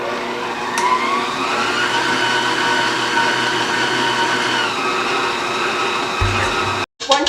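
An electric mixer whirs steadily through cream cheese frosting made with vanilla and melted butter, a constant motor drone that holds for several seconds, then stops abruptly just before the end.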